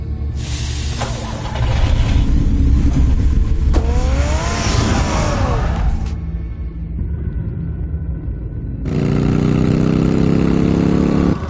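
A car engine in Batman The Telltale Series revs and runs loud and near, rising in bursts, dropping to a lower hum, then surging again.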